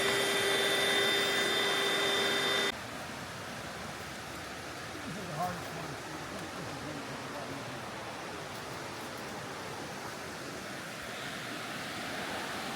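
The Hood River rushes past a campsite, a steady broadband roar of flowing water that runs unbroken throughout, moderately loud and close.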